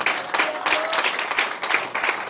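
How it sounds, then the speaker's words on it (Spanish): A church congregation applauding together during a sermon, a dense, continuous wash of clapping from many hands, with a faint voice heard briefly beneath it. "Dale un aplauso al Señor en esta hora."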